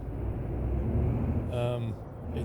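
Simulated truck engine in a trucking video game, a low steady rumble droning throughout, with a voice talking over it.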